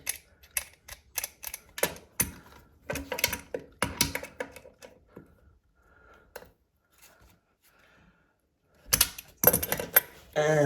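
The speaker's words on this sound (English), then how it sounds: "we're gonna take our adjustable wrench" An adjustable wrench works on the nut of a toilet's floor bolt, giving irregular metallic clicks and taps close by. The clicks thin out midway, then come back as a louder burst at the end, with a brief spoken word.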